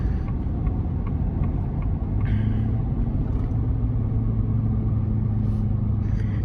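A 2023 Ford F-350 Super Duty towing a heavy load of about 24,500 lb pulls off the road, its engine a low steady rumble from inside the cab with a deeper tone emerging midway.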